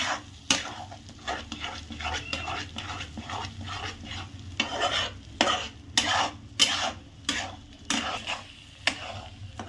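Eggs frying over full gas heat in a pan for egg bhurji, with repeated scraping stir strokes and utensil clatter in an uneven rhythm over a low, steady sizzle; no talking.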